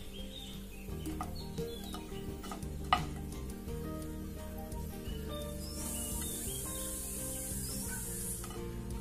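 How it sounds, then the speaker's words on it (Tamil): Asafoetida frying in a pan gives off a quiet, steady sizzle and hiss, with occasional soft stirring clinks and a brighter crackle building near the end. No one speaks. "பெருங்காயம் பொறிஞ்சோன்னு நல்லா பொறியிட்டு பாருங்க"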